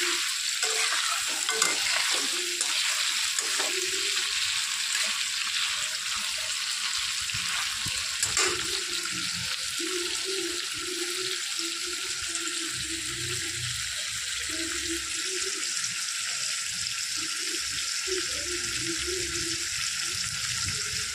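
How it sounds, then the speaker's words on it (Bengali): Prawns fry lightly in hot oil in a pan, a continuous close sizzle with intermittent stirring and scraping sounds running throughout, no one speaking. "হালকা করে আমি চিংড়ি মাছগুলোকে ভেজে নিলাম।"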